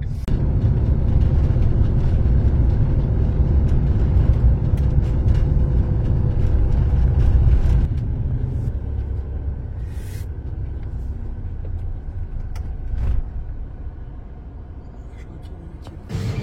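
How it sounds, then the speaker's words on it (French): A bus to Albufeira centre in Portugal rumbles with a loud, steady low engine drone that drops to a quieter idle halfway through, with occasional clunks and faint background noise. "Donc voici le bus pour le centre de l'Albufeira."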